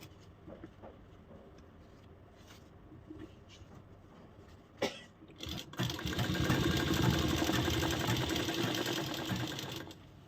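A sewing machine stitches fabric for a kali palazzo, starting after some quiet handling noises and then running at a steady, fairly loud whir for about four seconds before stopping.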